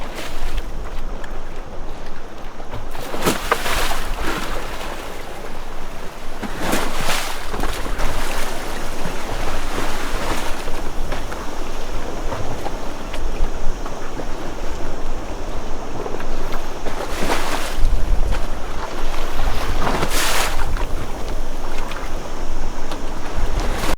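Swell and waves roll into an anchorage around a sailboat at anchor, a loud, continuous wash of water with wind buffeting the microphone and recurring louder surges, no talking.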